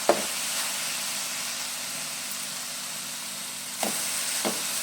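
Sweet potatoes fry in a pan, giving a steady soft sizzle and hiss throughout, with a few brief clatters of stirring or the pan near the start and end.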